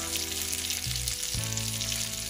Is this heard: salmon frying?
yes